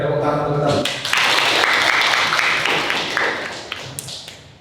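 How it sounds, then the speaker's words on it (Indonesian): Students applaud in a classroom at the end of a lesson. Clapping starts after a short voice at the beginning and then runs as a steady, fairly close patter of taps that slowly thins toward the end. "Baik, tepuk tangan."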